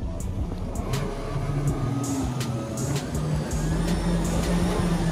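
A jet ski engine revs and accelerates steadily on the water with a low droning rumble, loud and close, with splashing water noise running throughout.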